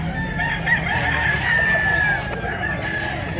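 A rooster crows once in a long, loud call close by, with other chickens clucking faintly underneath at a poultry yard in Mantalungon, Cebu.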